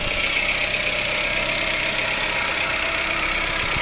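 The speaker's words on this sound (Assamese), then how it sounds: "মই দেখাইছোঁ গাড়ী ষ্টাৰ্ট হৈ আছে" A used car's engine idling at a second-hand car market, a steady, even hum with a faint knock, close and unbroken with no talk.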